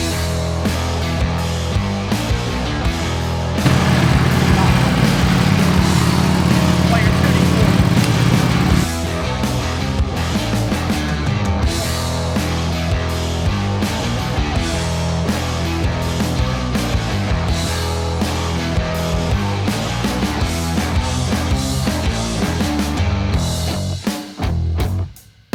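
A 2018 Ducati Panigale V4S motorcycle engine runs loud and close, a continuous droning roar with a heavier rise in revs early on, then cutting off abruptly at the end.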